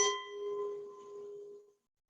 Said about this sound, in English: when I hit my wine glass with a spoon, you can hear the sound